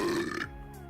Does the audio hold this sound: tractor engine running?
no